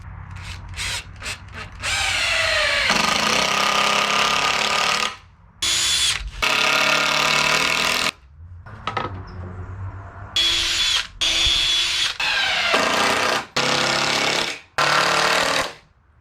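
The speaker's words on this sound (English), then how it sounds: "Then we're going to sink some 3-inch screws in." A power drill drives 3-inch screws into wood in repeated loud bursts, each whirring for one to three seconds and stopping abruptly, with short pauses between.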